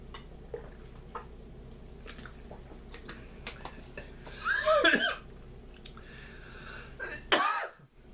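A person coughs after a sip of water goes down the wrong way, a few faint throat sounds and then two sharp close coughing bursts, the second cut off abruptly, in a quiet room.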